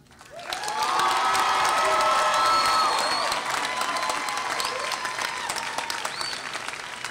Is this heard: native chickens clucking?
no